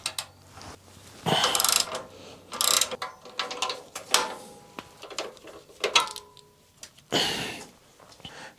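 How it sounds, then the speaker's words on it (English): A 14mm socket on a ratchet works loose a rusty foot peg on a Yamaha Virago 535, with bursts of close, clicking ratchet strokes separated by short pauses and metallic handling sounds. "14mm socket for the foot peg."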